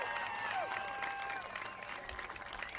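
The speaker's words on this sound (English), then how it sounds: "let's give one more round of applause" Crowd applause at a women's college soccer game, Dixie State versus Azusa Pacific, fills the clip, a steady wash of clapping with some cheering, heard at a distance, while a high tone sounds over it.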